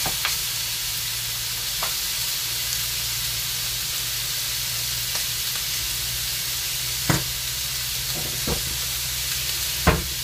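Pork belly fries in a dry pan without oil, giving a steady hiss and sizzle under a low hum. A few sharp clicks and taps stand out near the end, and nobody speaks.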